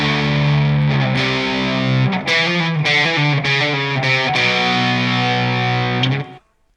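Heavily distorted electric guitar slowly playing a riff, sustained chords giving way to a choppy, legato run of notes and then a long ringing chord, loud and close with no talking.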